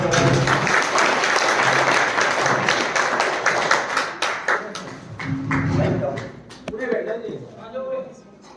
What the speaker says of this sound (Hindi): हाँ जी, जोरदार ताली।